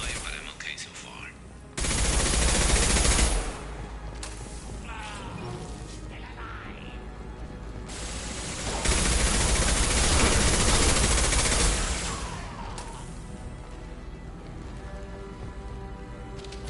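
Heavy video-game gunfire crackles in two long, loud bursts of sustained shooting, with quieter firing and battlefield noise filling the gaps between them.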